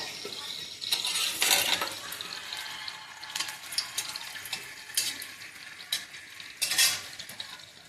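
Dried red chillies and a bay leaf crackle in hot oil for mutton curry, a moderate close sizzle with bursts of stirring and utensil clatter against the pan, with no talking.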